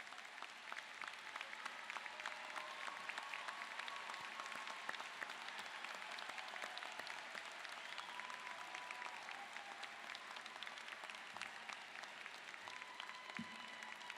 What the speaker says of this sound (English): Will all of our honor students please rise to receive our applause?